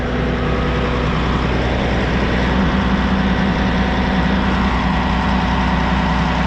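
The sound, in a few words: Cat engine of hay buster straw shredder running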